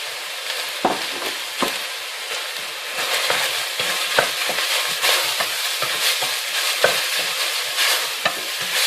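Spices fry with chicken mince in a pan, a bright sizzle broken by repeated scraping strokes of a spoon stirring at an uneven rhythm, close and fairly loud.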